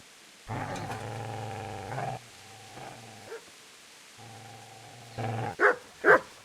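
A dog attacks in the medieval video game Kingdom Come: Deliverance, giving a few sustained snarling growls with pauses between them, then two sharp, loud barks near the end.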